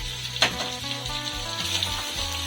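Cucumber pieces drop into a pan of mutton curry, giving a steady close sizzle with a brief louder burst near the start and no talking.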